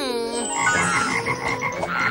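Several frogs croak in a dense, continuous chorus of rapid, buzzing calls that stay close and steady throughout, with no voices.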